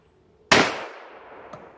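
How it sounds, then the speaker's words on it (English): A shotgun fires at a sporting clays target, one loud sharp blast with a decaying outdoor echo, then a faint distant thud a second later. "So you shot just a second too early, and you shot under it."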